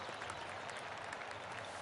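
Golf crowd applause from a video game, a steady wash of clapping that fills the short stretch at an even level without a break, with no voices standing out.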